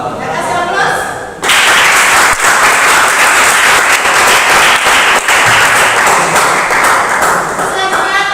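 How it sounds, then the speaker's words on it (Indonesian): A classroom of students bursts into loud, sustained applause, dense clapping that begins abruptly after a brief spoken word and continues steadily to the end. "Terima kasih aplaus."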